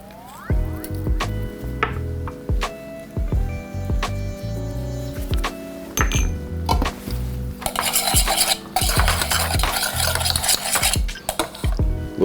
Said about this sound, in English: I'm gonna whisk in my whole milk.